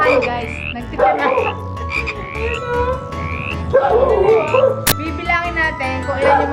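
Frogs croak repeatedly in and around a swimming pool, a loud, close chorus of rhythmic rasping calls that overlap and pulse throughout, with a brief sharp knock partway through.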